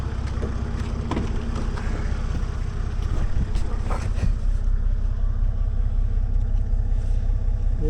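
A car nicknamed Miss Red sits idling near grain silos in central Victoria, a steady low engine rumble that holds for several seconds with wind buffeting the microphone.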